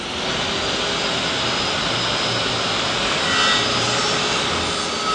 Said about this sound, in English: I have to do something about that drill.